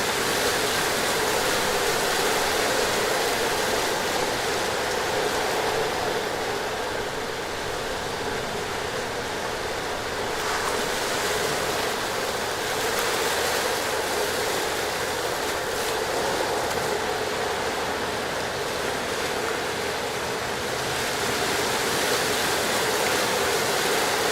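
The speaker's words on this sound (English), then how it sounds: "Maybe because of my waves are too loud." Waves and rushing water fill the space with a loud, unbroken roar that surges gently but never stops, with no voices over it.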